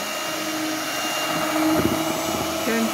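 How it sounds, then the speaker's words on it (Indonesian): An electric mixer whirs steadily while beating batter for a traditional Indonesian steamed tiwul sponge cake, a loud continuous motor hum with a brief shift in pitch near the end, with a voice speaking briefly. "Kita cukupkan mixernya. Kita matikan dulu."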